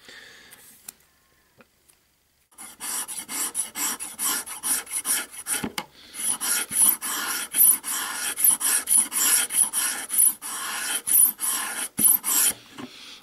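Steel scraper rasping over cane while thinning an uilleann pipe reed, a quiet start then a close, steady run of short repeated scraping strokes that keeps going to the end.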